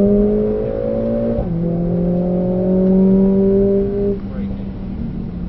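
A Mercedes-AMG 45 engine drones steadily on a track, its tone stepping down and then climbing slowly as it accelerates, loud and close from inside the car, before easing off near the end.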